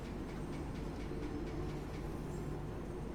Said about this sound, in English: there's just something about these old grinding, low-tone motor sounds that I do really like